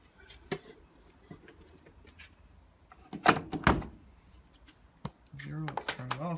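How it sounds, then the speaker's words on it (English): A Bosch WFO2465 washing machine door being opened at the end of a wash, a sharp thunk and clunk of the latch and door near the middle, amid scattered clicks and with a voice speaking toward the end. "Let's see if the door opens."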